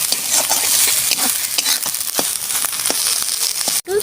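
Fried leaves are stirred in a pan, giving a continuous close sizzle with scraping and soft crackling strokes in an uneven rhythm and a sharp knock near the end.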